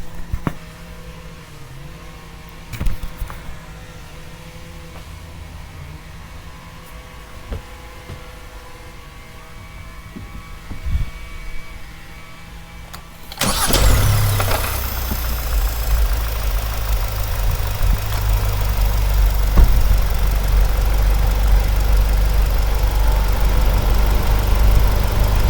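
Hyundai Sonata N Line fitted with a cold air intake starts up abruptly after quiet background noise, then settles into a steady, fairly loud idle that continues to the end.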